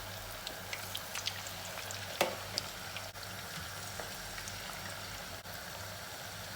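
Cauliflower pieces fry in hot oil filling a pot, giving a steady close sizzle and bubbling with scattered crackles and pops throughout, with no voices.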